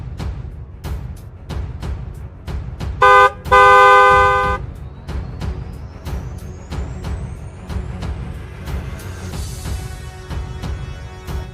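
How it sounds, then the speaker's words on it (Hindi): Two loud car horn honks, a short blast followed by a longer one, over steady traffic rumble, with more vehicles passing in the background. "हॉर्न सुनाई नहीं दे रहा?"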